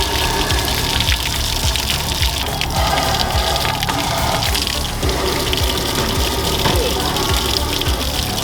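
Steady, loud rush of water pouring and gushing as a truck radiator is flushed out to clear rust, continuous throughout with a faint splashing texture and no talk.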